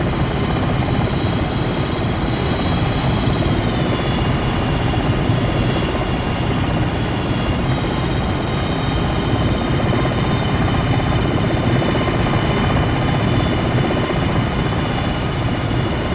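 Black Hawk helicopter flying in a military video game, a loud continuous engine roar with a steady rotor whine, constant and close throughout.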